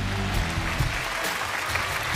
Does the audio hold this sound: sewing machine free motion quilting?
no